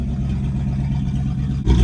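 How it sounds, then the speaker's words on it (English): The engine of a 1969 Chevrolet C50 truck idles high with a steady, loud low rumble, then briefly rises in level at the end. "but it's idling pretty high."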